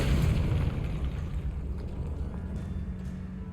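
A Confringo fire spell bursts in the Hogwarts Legacy video game: a loud, close boom with a heavy low rumble that fades into a sustained roar over a few seconds, with no talking.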